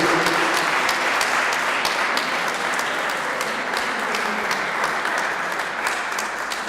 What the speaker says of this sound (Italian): Vorrei invitare ancora per un applauso Silvestro Favaro, Walter Favaro